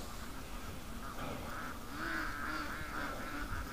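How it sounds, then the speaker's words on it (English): A flock of ducks on a creek by a lake calls in a soft, scattered chorus of quacks and honks, fairly distant and faint, rising slightly toward the end. "A lot of ducks."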